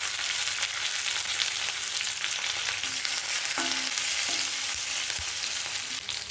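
Garlic, curry leaves and a slit green chili fry in hot oil in a pan, giving a loud, continuous crackling sizzle with a few faint stirring knocks.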